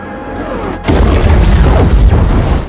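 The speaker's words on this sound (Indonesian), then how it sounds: "Akhirnya tempat tersebut berhasil diledakkan, Leo pun hancur bersama dengan bangunan itu" A loud, deep explosion of a building in a film bursts in after a quieter opening and rumbles on with crackling debris until the end.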